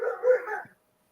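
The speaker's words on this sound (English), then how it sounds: "Please excuse the dog." A dog indoors gives a short whimpering yip and a bark-like burst, then the sound stops abruptly and silence follows.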